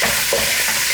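Onions sizzle in hot oil left over from browning chicken thighs, a steady, close, dense hiss with a few soft stirring bumps, no voices.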